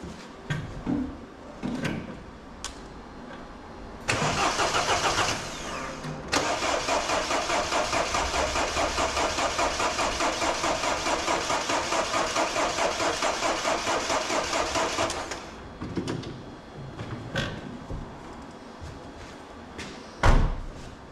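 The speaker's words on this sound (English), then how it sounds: "there's just not enough life in that battery to spin it over fast enough to get all the diesel back up" A diesel Mini Cooper D with a weak battery cranks for about ten seconds in one long, slow, rhythmic churning bout without catching, after some clunks and handling noises, then quiet knocks and a loud thud at the end.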